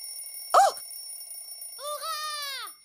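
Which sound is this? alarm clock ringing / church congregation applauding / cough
alarm clock ringing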